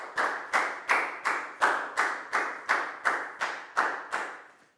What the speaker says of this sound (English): Big round of applause for Rakau